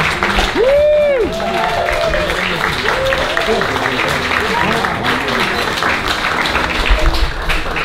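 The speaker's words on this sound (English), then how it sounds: "let's give a huge round of applause to the wonderful country" Applause from a dinner audience at a cruise ship restaurant show finale rolls on steadily, mixed with crowd noise and a voice over the top.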